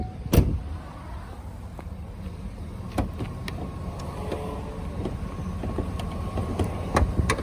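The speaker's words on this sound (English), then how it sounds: "pop the hood real quick, take a look at our engine." The hood of a 13-year-old Cadillac Escalade with over 277,000 miles is popped: a sharp latch clunk near the start, then lighter clicks and knocks of the hood being handled over a low background hum.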